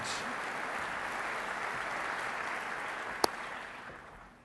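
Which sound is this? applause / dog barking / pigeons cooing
applause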